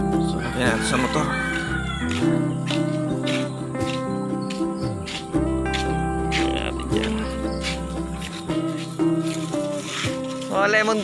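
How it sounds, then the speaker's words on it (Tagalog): A cat meows several times up close, with voices talking over it. "May pusa na to ah."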